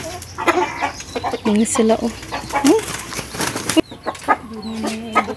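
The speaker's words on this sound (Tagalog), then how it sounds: "Pinalabas na yung mga manok o sa bayong." Chickens, hens and young chicks just let out of a woven bag, cluck in short bursts close by while a person talks over them, with a brief squawk partway through.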